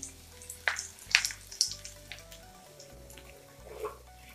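Semolina (suji) toasting in hot ghee in a kadhai for Marwari suji pitha, giving a soft, steady sizzle with a few sharp crackles and spoon scrapes close by, then settling into a quiet hiss.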